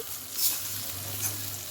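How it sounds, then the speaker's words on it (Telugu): Tempering for a brinjal roti pachadi: mustard seeds, cumin, asafoetida, curry leaves and chilli powder sizzle and crackle steadily in hot oil, close and continuous, with brief brighter spits and no talk. "సో తాలింపులో కొద్దిగా కారం వేసానండి"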